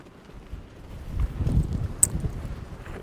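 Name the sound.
strong wind blowing at the port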